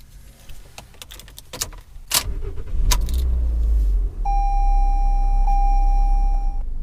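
Toyota C-HR starting up and pulling away from a parking spot in a neighborhood, with clicks and key jangles first, then a low engine rumble and a steady whine as it moves off, close and without talk.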